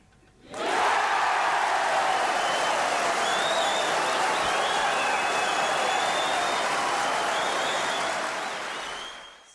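A packed snooker crowd at the Crucible breaks into loud, sustained applause that surges in suddenly and holds as a dense wall of clapping with some cheering, easing off slightly at the end.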